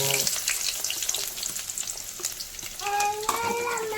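Onions hit hot oil for a Kerala-style spinach stir-fry, a loud close bubbling sizzle with a few stirring scrapes and a tonal clink near the end.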